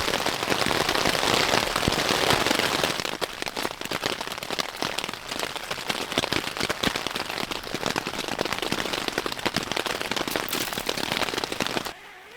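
Heavy autumn rain drums on a hot tent in the Scottish Highlands, a dense, steady close patter that runs without letup for about twelve seconds, with no talking.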